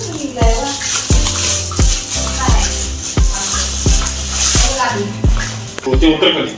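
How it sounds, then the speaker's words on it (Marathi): Homemade vada fritters for vada pav are dropped into hot oil and fry with a loud, steady sizzle. Regular clanks of a utensil against the pan repeat about every half second. "आणि आता वडे सोडूया तेलात"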